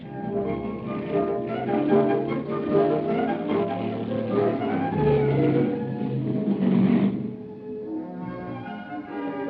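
A vintage Pontiac race car on Gates tires roars up the 1965 Pikes Peak hill climb, its engine loud and revving steadily before easing off near the end.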